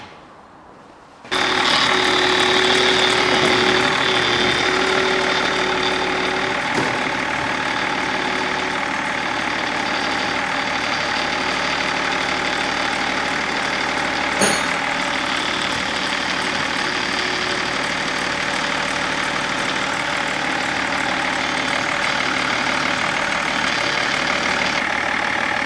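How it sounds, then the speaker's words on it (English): A replica American state trooper police car starts up after a brief quiet moment, then idles in a steady, close, even engine drone that holds for over twenty seconds with one small knock partway through. "just start the engine, alright?"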